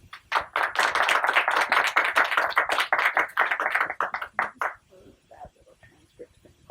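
Audience clapping welcoming Dr. Piers Kelly to a lecture, brisk close applause for about five seconds that then thins to scattered claps and soft handling noises.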